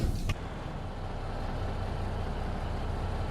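A Peterbilt 378 semi truck engine in American Truck Simulator drones steadily at close range with a deep, constant rumble; a brief click sounds at the very start.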